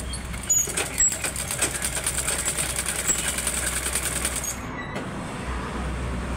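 A sewing machine stitches a cloth boat neckline at a tailoring class, a quick rhythmic run of needle clatter for about four seconds before it stops, leaving a low hum.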